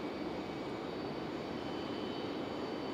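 A United airliner arriving from Denver at Raleigh-Durham airport gives off a continuous, level jet engine rush, broad and unchanging over a few seconds, with no voices.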